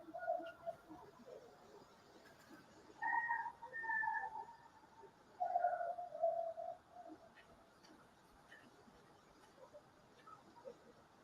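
A whistle blown in a few short tonal bursts, two or three clear sustained notes separated by pauses, fairly faint against a quiet, slightly noisy background.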